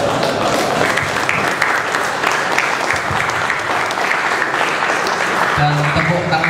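Sustained, dense applause from a seminar audience fills the room at a steady, loud level for the whole stretch, with a few voices briefly audible underneath toward the end.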